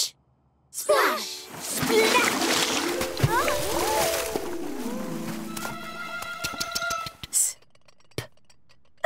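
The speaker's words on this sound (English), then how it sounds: "Splash!" A water splash is heard among lively cartoon sound effects, with a horse whinny and clip-clop hooves. A bright, brief splash rings out amid busy layered effects and a voice, then trails off into quiet.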